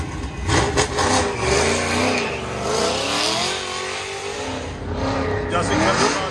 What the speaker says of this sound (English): Dustin Reed on the line in the truck class.